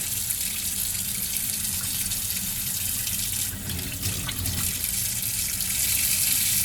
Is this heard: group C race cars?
no